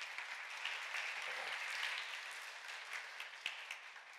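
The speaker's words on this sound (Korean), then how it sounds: "우리 박수로 환영하겠습니다." A church congregation claps to welcome a missionary, a broad soft wash of applause that fades toward the end, with one sharper clap standing out near the close.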